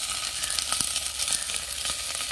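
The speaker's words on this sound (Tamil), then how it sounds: "இந்த பசலிக்கீரையை ஃபஸ்ட்டு நம்ம போட்டு வதக்கி எடுத்துக்கலாம்" Malabar spinach (pasali keerai) sautés in a hot pan with a continuous bright hiss of frying and occasional faint stirring taps, close up and even, with no one speaking.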